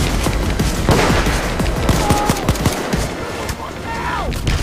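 Rapid bursts of gunfire from a Payday 2 heist as snipers open up, dense continuous crackling shots, loud and close throughout, with people talking over the firing.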